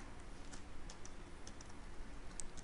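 Keyboard typing while writing code, soft scattered key clicks at close range, quiet and irregular, with no talking.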